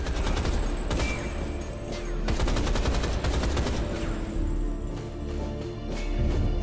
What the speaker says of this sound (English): Someone is trying to shoot me